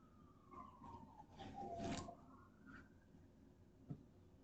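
Police and ambulance sirens wail from far off in the early morning, with a long falling-and-rising tone that sweeps across the street scene at a modest level, capped by a brief sharp knock near the end.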